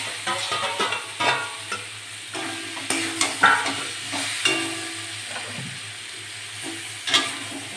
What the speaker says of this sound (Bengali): আলুগুলো দিয়ে ভালো করে কষে নেব মশলার সঙ্গে